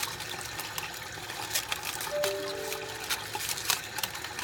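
Water runs steadily while rinsing dye from a horse's tail, a broad hiss with small splashes and drips and a brief faint squeak in the middle, no talking.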